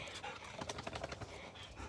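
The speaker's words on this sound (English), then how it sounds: "if this dog will stop jumping, we can get into the vid" A dog pants close by in quick, rhythmic breaths across a short stretch, with faint whimpering mixed in, as it jumps around before a boat tour.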